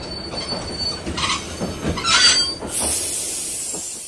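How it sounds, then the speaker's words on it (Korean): A train pulls into Pyongyang station with loud, close wheel squeal, clattering rail sounds and a strong hiss near the end. "드디어 두 사람이 탄 열차는 평양역에 도착하였다."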